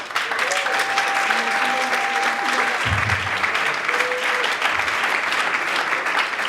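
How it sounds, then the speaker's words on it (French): An awards-ceremony audience applauds loudly in a sustained wash of clapping, with a host's voice and some background music over it. "Est-ce qu'on peut applaudir bien fort notre icône?"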